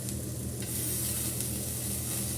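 Spring onions stir-fried with vegetable noodles in a hot pan, a steady bright sizzle with faint scraping of stirring, continuous and close, no talking over it.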